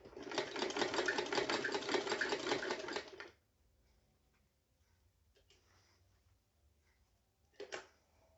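A sewing machine stitches an umbrella-style frock, running in a steady, close whirring burst for about three seconds before stopping, followed by near quiet and one brief rustle.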